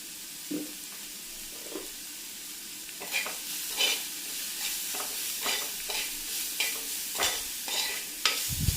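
Cut onions sautéing in a pan for an eggplant curry, a low steady sizzle broken by repeated spatula scrapes and stirring knocks that grow busier midway, no one talking.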